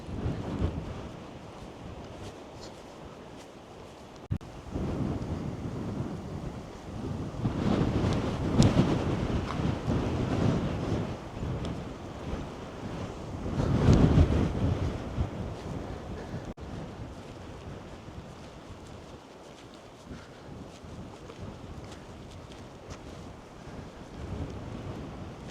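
Strong, gusting wind buffets the microphone on a breezy coastal walk at The Landslip on the Isle of Wight, a continuous roar that swells in two big gusts, with surf washing underneath and no talking.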